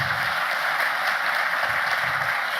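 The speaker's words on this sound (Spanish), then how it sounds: "Démosle un fuerte aplauso" An audience at a security and peace panel applauds General Óscar Naranjo, a dense, steady wash of many hands clapping at moderate distance throughout, with no speech over it.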